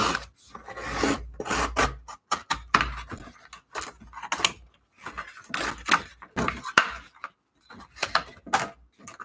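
Trimming the edge of a painting produces a dry, raspy cutting and scraping that repeats in uneven strokes with brief pauses between them, fairly close and without any talk.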